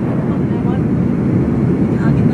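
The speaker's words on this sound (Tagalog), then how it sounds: "Landing na po kami." Airplane landing at Riyadh airport, a loud continuous cabin roar of engine and airflow noise with broadband rumble throughout.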